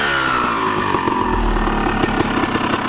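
A Honda CR250 two-stroke dirt bike idles close by with a steady, buzzing burble and rapid uneven pulses, loud and continuous with no talk over it.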